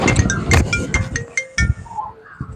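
A phone rings nearby with a short melodic ringtone, bright tonal chimes repeating over a few seconds at moderate volume.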